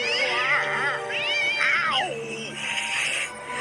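A pet cat attacking a man at home lets out loud, drawn-out yowling meows with sharply rising and falling pitch, several cries in a row up close, with no talking.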